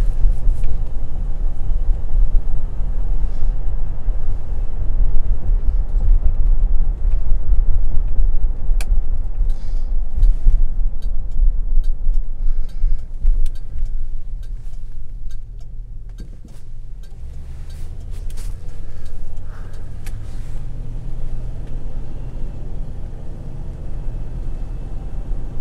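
A 1974 Mercury Marquis Brougham hardtop with a 460 four-barrel V8 drives along, giving a steady low interior rumble of engine and road noise that eases slightly midway.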